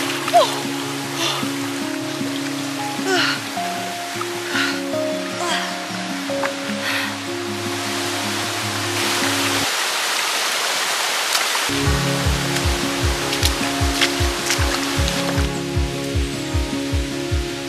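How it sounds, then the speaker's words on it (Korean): Waterfall in a forest valley stream, a loud continuous rush of falling water lasting throughout, overlaid with steady tonal hums and a brief dip midway. "폭포 너무 멋있다."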